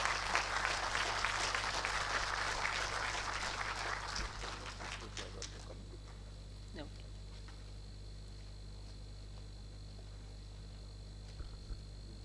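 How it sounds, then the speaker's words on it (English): Audience applause at an awards ceremony during a summit session, a loud burst of clapping from a large crowd that fades away after about five seconds, leaving a quiet hall hum. "A big round of applause should go on for a proud CMA."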